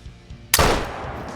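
A single hunting rifle shot in the hunting video game theHunter: Call of the Wild, one sharp loud crack followed by a rumbling echo that trails off over the next second.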